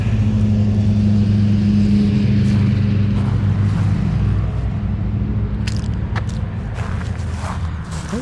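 Trucks driving nearby give a loud, close, steady engine drone that eases slightly partway through, with a few faint clicks and knocks near the end and no talking.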